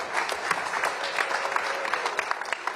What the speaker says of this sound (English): Let's have a round of applause for our world-class panel.